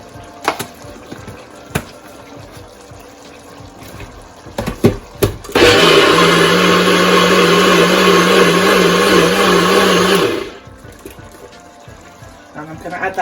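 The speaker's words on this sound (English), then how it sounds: "blitz it in my Ninja Bullet" A Ninja Bullet blender blitzes soup with extra liquid: a few clicks and knocks, then a loud, steady motor whir for about five seconds before cutting off abruptly.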